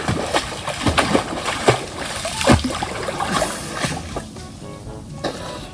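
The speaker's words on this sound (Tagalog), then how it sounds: "Sarap mag-swimming" Swimming in a deep river brings repeated splashes and sloshing water, loud and close, in an uneven rhythm, with faint voices in the background.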